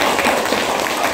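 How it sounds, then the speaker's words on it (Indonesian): A school class applauds a presenting student group, a brief burst of loud, dense clapping from many hands at close range that carries on without pause. "Kasih tepuk tangan yang meriah lah untuk kawannya"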